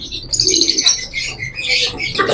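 White frill pigeons, a confirmed breeder pair with yellow eyes and large size, coo softly inside a bird shop while other birds chirp and flutter nearby in a steady, busy chorus.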